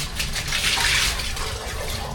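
Water gushes steadily from an internal tap in a camper van, a close, loud rushing splash that runs unbroken with a slight swell in the middle, no voices.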